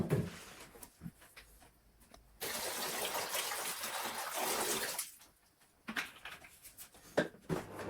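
Water gushing into a container for mixing a floor cleaner, a steady loud pour lasting a few seconds between quieter handling knocks and clatter.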